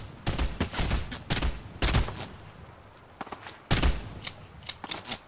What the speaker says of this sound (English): I see you shooting at me